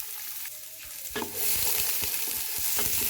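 Onion frying in sunflower oil with ginger and garlic, stirred in a pan: a steady close sizzle with repeated scraping stirs and a louder burst as the onion goes in, no talking.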